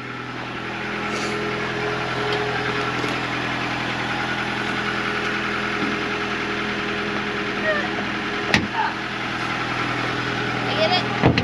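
A Honda B20D engine idles steadily under an open hood, a continuous low mechanical hum with a few brief clanks near the end and voices talking over it.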